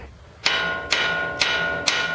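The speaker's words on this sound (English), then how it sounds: "So you do take a hammer" Four sharp, evenly spaced hammer blows ring out on a Honda Prelude suspension mounting point during an Energy Suspension bushing install, each metallic strike loud and close with a brief ringing decay.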